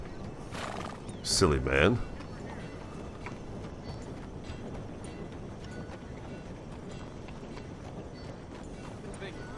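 A horse in the video game Red Dead Redemption 2 gives one loud, close whinny near the start, followed by quieter hoof clops and ambient game noise, with someone speaking briefly.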